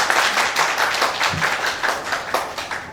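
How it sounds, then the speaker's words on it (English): Audience applause for a company president at an MOU signing ceremony, a dense, steady patter of many hands clapping close by, with a faint voice underneath. "give a big round of applause to the President of the SMYCCI, Mr. Nini Tun"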